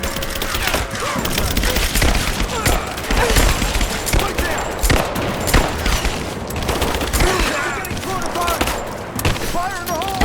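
Heavy gunfire in Rise of the Tomb Raider rattles through a loud firefight, with bursts of rapid shots and scattered impacts as voices shout over the action.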